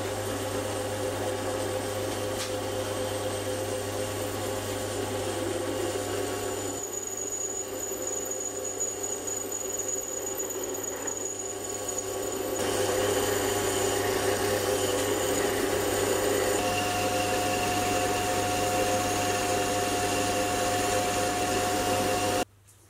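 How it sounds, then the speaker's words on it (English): Gear being machined from scratch with a carbide insert, a steady continuous cutting and motor hum that runs unbroken near and loud, with a thin whine rising partway through before stopping abruptly at the end, no talk. "I switched over to a carbide insert, and the cut immediately improved."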